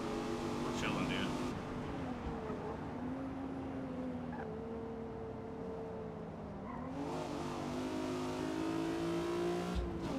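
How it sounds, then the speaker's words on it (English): A car engine in Forza Motorsport, a G35 time attack build, drones and revs at steady pitch, dipping and climbing as it shifts, with a sharp blip near the end; someone talks over it. "That was a pretty fucking gnarly downshift."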